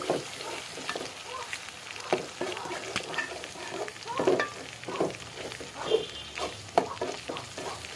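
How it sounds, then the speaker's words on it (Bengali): A mixed spice paste frying in oil in a pan, with a close, low sizzle broken by repeated scraping and clanking strokes of a spoon in an uneven rhythm. "এখানে কিন্তু সব ধরনের মশলা আমি একসাথে মিক্স করে মেখে রাখছিলাম এটাকে তেলের মধ্যে কষিয়ে নিব"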